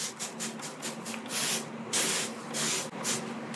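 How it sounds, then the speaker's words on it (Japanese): Diluted detergent water sprayed from a spray bottle onto a car surface to apply protection film, a series of close, short hissing bursts, the later ones longer and stronger. "洗剤を水で希釈したものをスプレー容器に入れて貼り付け箇所に十分に吹き付けてください。"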